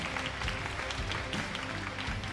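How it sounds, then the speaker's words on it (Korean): Audience applause for the runner-up at a StarCraft II esports final, steady dense clapping filling the hall without a break, fairly loud throughout. "큰 박수 부탁드립니다"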